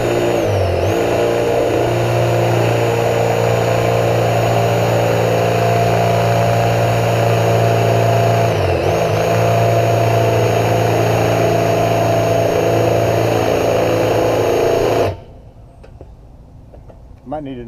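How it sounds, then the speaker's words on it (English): A power drill bores bolt holes for a Weber kettle grill hinge bracket, whining in a loud, steady, sustained drone with one brief dip midway, then stopping abruptly, leaving quiet room noise. "Got all the holes drilled."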